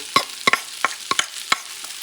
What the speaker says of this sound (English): I'm going to mix this baby. And I'm going to mix the meat, the flavors, the little fat and oil.